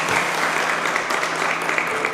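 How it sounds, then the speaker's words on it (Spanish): A church congregation breaks into applause, dense continuous clapping from many people nearby, loud and steady with no speech over it. "le damos un aplauso al Señor por Natanael"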